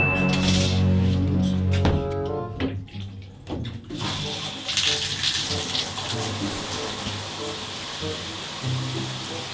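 Water runs steadily and strongly from a tap or shower with no hot water. Voices are heard briefly at the start before the rushing water carries on alone.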